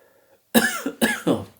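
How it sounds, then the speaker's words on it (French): Someone coughs in a quiet room, two pairs of harsh, close coughs in quick succession, the first pair slightly louder than the second. "C'est chiant cette toux."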